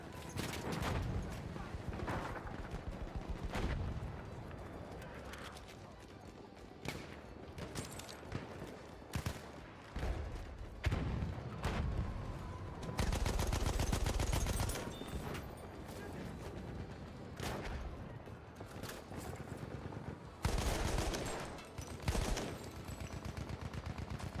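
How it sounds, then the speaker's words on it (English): Machine gun fire in the Battlefield 1 video game, heavy bursts and rattling volleys rising and falling over a dense battle din, with someone talking over the gunfire. "Machine gun, hostile."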